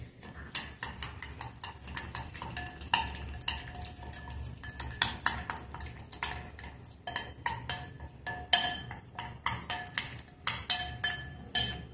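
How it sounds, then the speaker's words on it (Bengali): Chicken tikka marinade is mixed in a bowl, giving a steady run of scraping, stirring and clinking from spoon against bowl with repeated sharp taps. A faint voice can be heard at moments. "সবগুলো দিয়ে আমি খুব ভালো করে মিক্সড করে নেব প্রথমে"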